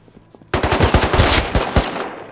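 Automatic gunfire in the video game Rust, a sudden loud burst of rapid shots in an uneven rhythm after a brief quiet start.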